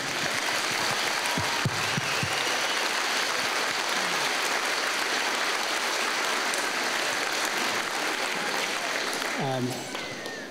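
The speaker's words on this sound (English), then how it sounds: "I would like to recognize and say thank you with a round of applause for all of our sponsors who make this league run." Outdoor crowd applauding league sponsors at a youth baseball and softball opening day ceremony, a dense sustained clapping that fills the whole stretch, with a voice briefly at the end.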